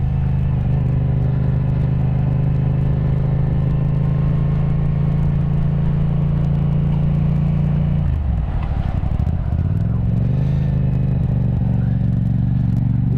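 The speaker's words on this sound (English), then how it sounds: "Gonna take a little ride around and see how the bike's running" A Yamaha FZ-07 motorcycle's twin engine hums steadily at cruising speed, a loud, constant close-up drone with wind rumble, dipping briefly as revs drop and then climbing back up.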